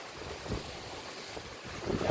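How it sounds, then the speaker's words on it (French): A strong gust of wind during a thunderstorm in Meyzieu buffets the microphone with broadband rushing noise, swelling in a few surges. "il y a un autre rafale de vent en fait"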